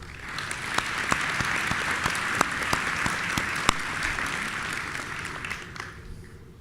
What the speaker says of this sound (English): take a moment to acknowledge him and give him one more round of applause.